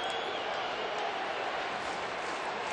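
A large baseball crowd at Safeco Field on a Saturday night, a dense continuous roar of cheering and chatter from the stands, steady and fairly distant.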